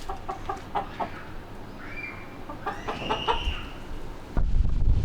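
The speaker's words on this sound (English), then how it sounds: "Oh, you got chickens?" Chickens clucking at a house in Muscat, Oman, a run of short clucks and a few higher calls, close but fairly quiet, ending in a low thump; no talk.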